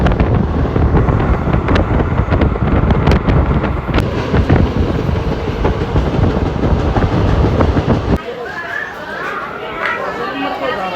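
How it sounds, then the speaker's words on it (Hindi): An old ICF passenger train rattles loudly along the tracks with steady clickety-clack and sharp periodic clanks, wind buffeting close by and people chattering, until the roar suddenly drops to a quieter hum near the end. "ये ट्रेन है भाई साहब बाबा आदम के ज़माने की, अब तक चल रही है भाई साहब।"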